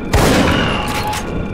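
Loud gunfire rings out while guards are shot in Velvet Assassin, starting with a sharp booming report and trailing into a sustained, noisy roar of echo and debris.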